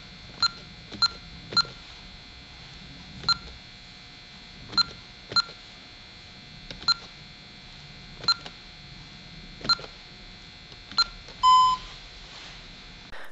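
A Honeywell Vista 20P alarm keypad gives sharp electronic beeps as a programming command is keyed in, a dozen or so separate presses at uneven intervals, ending in a longer confirmation tone.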